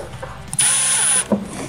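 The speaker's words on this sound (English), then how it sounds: "I'm gonna start with an 1/8 inch pilot bit, or pilot hole" Power drill boring a pilot hole through a plastic splitter for a 2000 Mustang Cobra R, with a short, loud high whir lasting about half a second, framed by clicks and clunks from handling.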